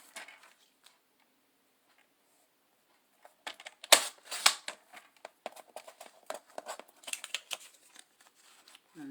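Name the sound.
scissors cutting scrapbooking paper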